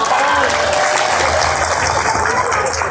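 Dense, continuous applause from a religious gathering audience at a Persis Katapang event, a steady wash of many hands filling the whole stretch without pause, loud and close.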